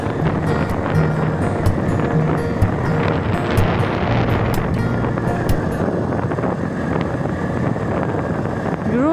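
Steady wind rushing past during a motorbike ride on a mountain road from Jaigaon toward Jholung, continuous and loud, with engine and road noise under it and no clear speech.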